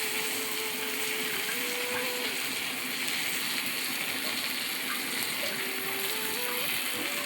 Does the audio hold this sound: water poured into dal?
yes